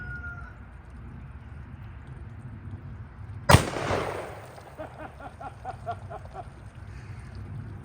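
A single sharp, loud revolver shot from a Taurus Raging Hunter firing a .454 Casull round outdoors, a hard crack followed by a brief rumbling echo against quiet background noise.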